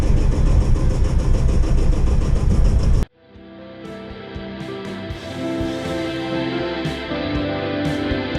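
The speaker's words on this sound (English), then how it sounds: "Obviously the engine is now on tick over because we don't need that anymore." A sailboat's inboard engine, a Twister-class yacht, ticks over at idle in calm conditions, a steady low rumble that carries on after a sudden cut from a louder, busier stretch.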